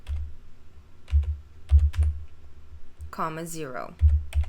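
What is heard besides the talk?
typing on a computer keyboard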